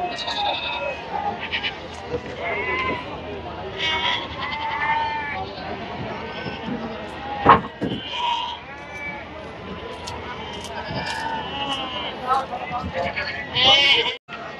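Several goats bleat repeatedly at a busy outdoor goat market, with people talking nearby throughout.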